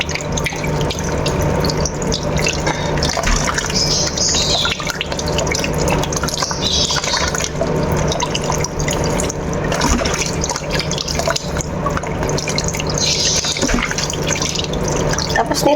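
Hot tap water runs steadily over chicken being washed in a sink, a constant close splashing stream.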